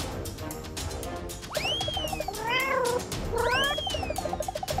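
A cat meows loudly and close, two long drawn-out rising-and-falling calls a moment apart, over a steady background of light ticking noise.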